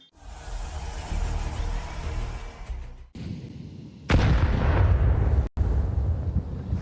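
Gunfire in the Counter-Strike 2 video game during a competitive match: loud, sharp shots and booming bursts crowd the sound, with a heavy blast partway through and abrupt cuts between rapid volleys.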